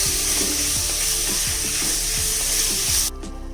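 Chicken being stirred in a pan for a Kerala-style stew sizzles with a broad, even hiss, with repeated soft scrapes of the spoon before the sound drops off abruptly near the end.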